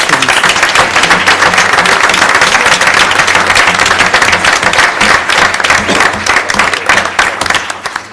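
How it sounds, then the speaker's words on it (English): A roomful of people at a school board meeting gives loud, close applause for National Merit students, with individual claps audible in a dense, steady burst that tapers slightly near the end. "if we could have one more round of applause for our National Merit students"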